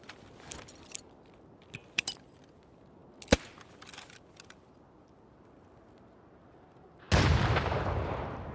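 A grenade blows up in Escape from Tarkov: sparse clicks and small impacts come first, then a sudden loud close explosion with a rumbling tail that carries to the end.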